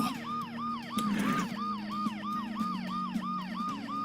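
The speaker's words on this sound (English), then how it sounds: "The noise the ambulance makes will cover the sound of the glass breaking." A video game ambulance siren wails continuously in steady, rapid rising-and-falling cycles over a low hum, moderately distant and constant throughout.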